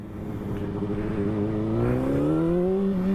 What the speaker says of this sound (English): Whereas on the 600, I can rip this throttle.